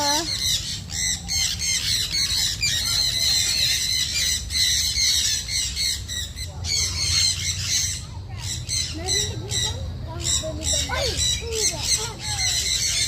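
Many birds squawk loudly and continuously at a wildlife park in Quezon City, a dense, close chorus of harsh calls with scattered brighter chirps throughout.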